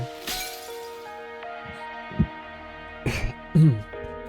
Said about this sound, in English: The sound of glass shattering rings through the air